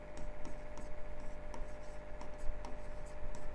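Pen writing on paper for an economics exam answer, steady scratchy strokes with quick regular ticks as letters form, close and continuous over a low hum.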